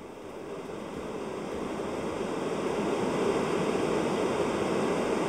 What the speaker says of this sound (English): if you like different types of noises, there's even like soothing, like ocean noises